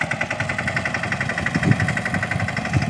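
A tractor engine idles in a village, giving a steady, close, mid-loud diesel chug with a low knocking pulse throughout and no talking.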